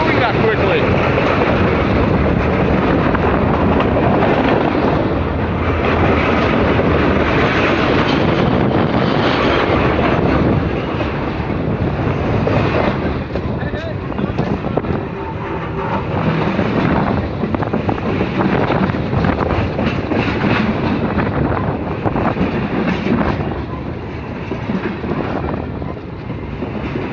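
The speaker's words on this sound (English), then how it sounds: "I can grab onto this train right now. It's not even moving that quickly." A train rolls past slowly at very close range, producing a loud, continuous rumble and clatter that lasts the whole stretch, with heavy wind buffeting the microphone.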